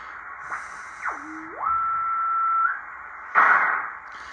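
A single ham radio tone sweeps down, holds, then glides up to a steady whistle, followed by a burst of static over a hissy 15-meter shortwave band on an SBE-36 receiver, with thunderstorms nearby.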